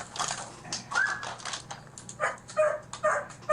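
Starved, skinny guard dog kept without water gives short, uneven whimpers and yelping barks in a quick irregular burst, fairly close and moderately loud, with no human voices.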